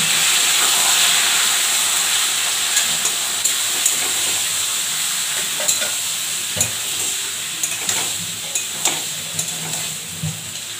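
Meat hitting a hot pan sets off a steady, fairly loud sizzle with frying hiss, punctuated by scattered clicks and pops as pieces settle, no voices.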